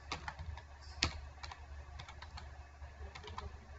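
Keys clatter on a computer keyboard while text is typed into a Word document, giving quick, uneven clicks with one sharper keystroke, close and fairly quiet, with no talk over it.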